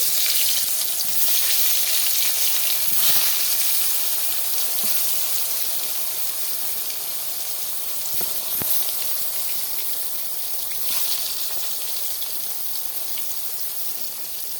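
Eggplant slices go into hot oil in a pan just used for frying fish, giving a loud, steady sizzle and crackle that holds for the whole stretch with no one talking.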